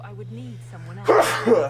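A character in Dragon Age II lets out a sharp sneeze near the end, a short loud burst that follows calm speech, with a steady low hum underneath.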